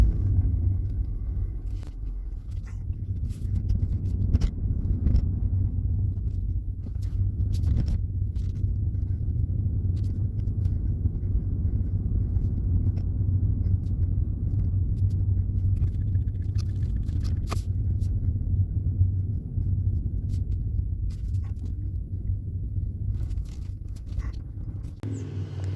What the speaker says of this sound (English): we're just going to drive around